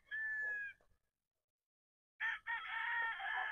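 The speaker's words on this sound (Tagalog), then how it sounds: "Ayan ang manok na pula." A red chicken crows outdoors in two bursts, a short call followed by a pause, then a longer, loud, strained crow close to the listener.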